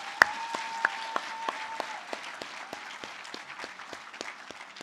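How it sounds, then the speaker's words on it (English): A faint round of applause sounds at the Ishami Class of 2026 graduation ceremony, with distinct claps landing in a fairly even rhythm and softening over several seconds. "Please help me in congratulating them with a very warm and huge round of applause."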